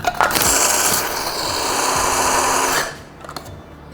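Black pepper ground in an electric spice grinder for a Sindhi pickle masala, a loud continuous whirring grind lasting about three seconds before cutting off, followed by quieter handling noises.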